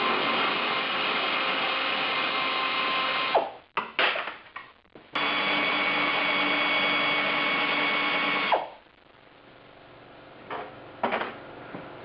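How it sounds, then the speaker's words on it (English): An air ratchet runs in long, loud, steady buzzing bursts while removing bolts from the front end of a 1976 Mazda Cosmo. Short stuttering pulses sit between the runs, and quieter clinks follow as a burst ends. "I have to use this stupid air ratchet"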